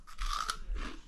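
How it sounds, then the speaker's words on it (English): Crunching bites into freeze-dried New Zealand feijoa fruit snack, a close, crisp crackling chew with a couple of sharp snaps, alone without speech. "From a fresh New Zealand feijoa to a tangy, crunchy fruit snack."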